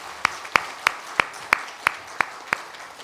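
A church congregation claps together in a steady, even rhythm of about three claps per second, eight sharp distinct claps with no talking.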